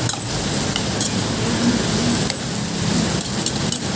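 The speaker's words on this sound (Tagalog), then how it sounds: "Malakas ang ulan ngayon" Heavy rain falls outside during a typhoon-season downpour, a steady hiss with faint clinks and a distant passing vehicle, heard without speech.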